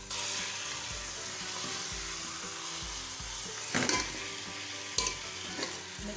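Chicken sizzles and fries in a karahi with light golden onions, a steady loud hiss with scraping stirs and a couple of sharper clatters near the end.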